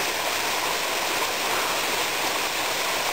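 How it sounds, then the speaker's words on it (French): A waterfall cascades beside a mountain trail on the climb to a plateau, giving a loud, close, steady rushing roar of falling water that runs unbroken and alone. "avec un tonge devant, une belle cascade"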